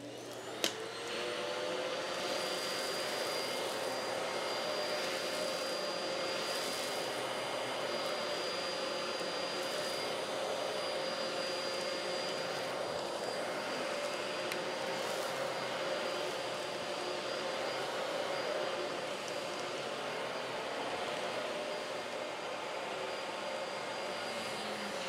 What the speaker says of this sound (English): Let's suck some of these Rice Krispies up on this.